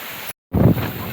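Strong wind and rain hitting a rooftop during a heavy downpour: a dense, rushing roar that briefly cuts out, then returns louder, blustery and close.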